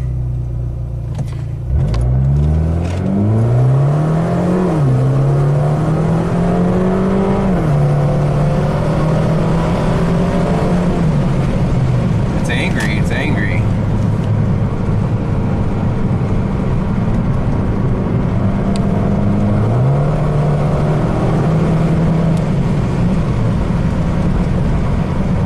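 Fiat with a turbo engine accelerating in sport mode, a loud continuous engine drone rising through gear changes with rpm climbing and dropping, heard from inside the car.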